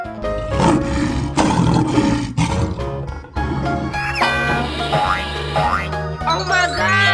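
A lion roars in a 3D animal sliding video game, a loud sustained growl amid busy game music, cartoon boing effects and rising whistle sweeps, with a voice shouting over it.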